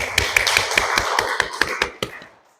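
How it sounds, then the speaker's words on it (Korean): Clapping during a Sunday church worship service, about a dozen sharp, crisp claps in a quick steady rhythm, close and fairly loud, that stop abruptly and leave a short fading tail. "하나님께 영광의 박수 드리겠습니다."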